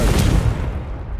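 A Confringo blasting spell bursts into a deep, heavy explosion in Hogwarts Legacy, a loud booming blast at the start that rumbles off and fades over about a second with no voices.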